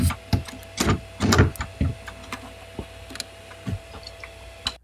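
A 3D printer extruder loads PLA filament through a nozzle heated to 210 °C, giving a close series of sharp mechanical ticks and clicks in irregular bursts, with a faint steady hum underneath.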